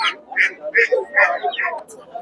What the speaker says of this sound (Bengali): এখানে হাঁসগুলো দেশি হাঁস